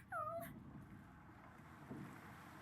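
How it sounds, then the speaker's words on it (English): A dog in the video game Divinity 2 gives a short, high whimper that falls in pitch, followed by faint, breathy snuffling over a low ambient game background. "It sneezes suddenly and paws at its nose once more."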